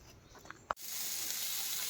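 Cauliflower, first boiled with salt and turmeric, frying in a pan. After a small knock, a soft, steady sizzling hiss starts and runs on quietly.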